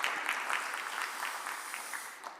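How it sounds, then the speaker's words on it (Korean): A church congregation at a Sunday worship service claps in blessing, a steady, fairly distant patter of many hands lasting a couple of seconds. "우리 인사할 때 큰 박수로 한번 축복해 주시기 바랍니다"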